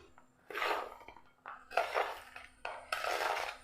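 Chopped cabbage, carrot and onion dropped into a mixing bowl: several rustling, crunchy bursts as the vegetables land, separated by short pauses, close and moderately quiet, with no talking.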